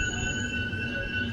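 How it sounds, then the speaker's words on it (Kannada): Gomateshwara Express train arriving at Channarayapatna station, a steady rolling rumble with sustained high-pitched wheel squeal ringing over it, close and loud. "ನಮ್ಮ ಟ್ರೈನ್ ಬಂದಿದೆ ಈಗ ಚನ್ನರಾಯಪಟ್ಟಣಗೆ"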